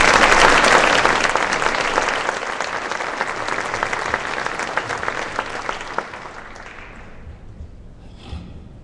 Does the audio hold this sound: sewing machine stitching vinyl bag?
no